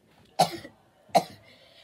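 Two short, sharp coughs from a person, spaced under a second apart, close and fairly loud in a quiet room.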